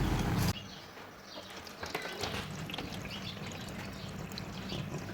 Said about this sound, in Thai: เดี๋ยวจะไปเทน้ำออกด้วยค่ะ